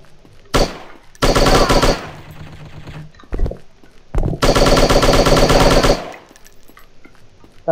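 Gunfire in the shooting video game Striker: two long, loud bursts of rapid automatic fire, each introduced by a single shot, separated by short quiet gaps and a few scattered reports.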